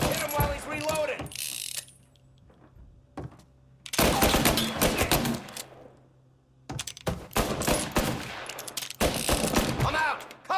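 Bursts of gunfire in the Mafia Definitive Edition game, clusters of loud sharp shots and mechanical clatter separated by quieter gaps, with a brief shout near the start.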